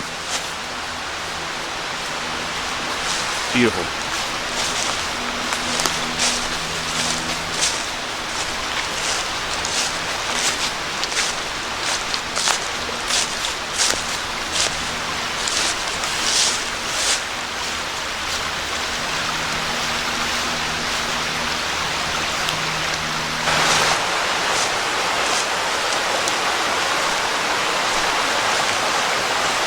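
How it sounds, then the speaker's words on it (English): A brook flows steadily beside a forest trail near Scouten Brook Falls in autumn, a constant broad rushing wash with a few crunchy footsteps and faint movement layered on top, and a single brief word spoken. "You get the sound of the water off to your side."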